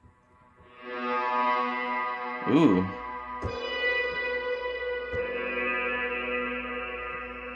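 A circuit-bent Yamaha PSR-12 keyboard played through a reverb pedal and amp rings out, sustained buzzy notes with a sudden pitch swoop and a short exclamation from someone nearby.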